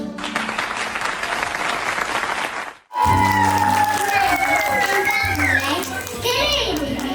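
Audience applause for nursery-class children after their dance at a school event, a dense steady clapping that fades briefly near three seconds, then returns loud with children's voices and shouts over it.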